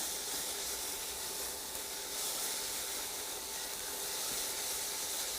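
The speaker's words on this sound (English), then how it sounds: "it hit that amazing olive oil, and I can already smell it. So we're going to go ahead and start to saute this" Olive oil hisses and sizzles steadily in a pan as food sautés, a dense, even frying sound holding at a constant level throughout with no voices.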